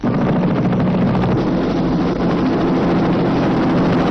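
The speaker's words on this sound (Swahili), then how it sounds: "Helikopta inaendelea bado kusaka kwenye msitu." A helicopter searching over a forest drones loudly and steadily overhead, its engine and rotor noise continuous throughout without a break.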